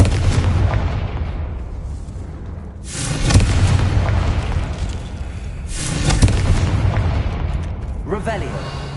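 Confringo spell in the video game Hogwarts Legacy: two heavy booming blasts about three seconds apart, each a loud broadband burst that rumbles and decays over a constant low game ambience.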